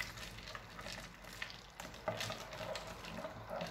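A spoon swirls through a sattu drink with ice and cold water, a soft continuous stirring with faint clinks of ice, quiet and close.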